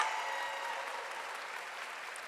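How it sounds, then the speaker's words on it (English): Steady applause from an audience at a housing awards event, a dense wash of clapping that holds evenly for a couple of seconds. "Give her a round of applause"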